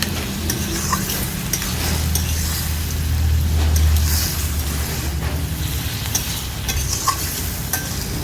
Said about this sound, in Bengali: লাউটাকে কিছুক্ষণ কষিয়ে নেব। লাউয়ের সাথে সব কিছু মিশিয়ে নিচ্ছি।